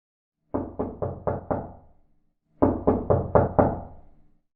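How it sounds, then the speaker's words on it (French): Two separate sets of five firm knocks on a door, each set a quick, evenly paced series, loud and close, with a short silent pause between the sets and no voices. "Qui frappe?"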